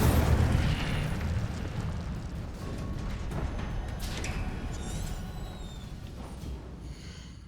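The Incendio fire spell in Hogwarts Legacy goes off as a loud, close blast with a deep boom at the start, then a roaring rush that slowly fades while small crackles and whooshes flicker above it.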